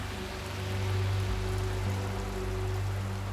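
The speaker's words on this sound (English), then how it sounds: "freak rains beat down on Las Vegas" Heavy freak rain beats down on Las Vegas, a steady loud wash of dense hiss and patter holding constant throughout, with a low droning hum underneath.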